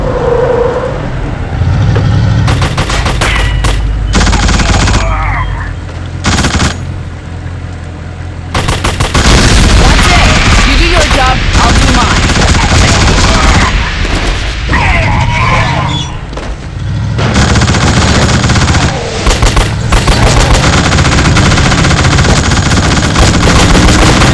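Gunfire from the video game The Suffering: Ties That Bind comes in loud, dense bursts of automatic weapon fire and scattered booms, with a vehicle engine roaring underneath during a driving sequence.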